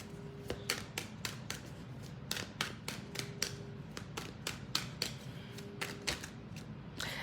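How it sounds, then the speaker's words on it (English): Tarot cards are shuffled and pulled in a quiet room, giving a rapid series of soft, crisp card flicks and slaps close to the listener. "Let's pull out a few more clarity cards."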